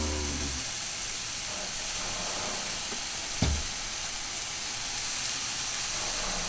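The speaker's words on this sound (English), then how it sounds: "Ooh, listen to that sizzle." Steady loud sizzling of stuffed pork loin chops on a hot grill, a constant frying hiss with one brief pop midway.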